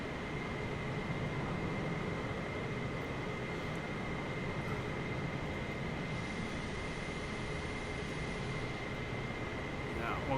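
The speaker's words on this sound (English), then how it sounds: "You can hear the reversers going over there." Thrust reversers roar on a cargo plane landing at Vienna, a steady, heavy, distant rush of engine noise with a faint whining tone that holds level throughout.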